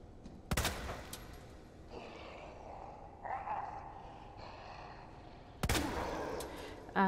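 Two isolated gunshots go off several seconds apart in Resident Evil 2 Remake, each a sharp, loud crack against a quiet background, with faint breathy vocal sounds between them.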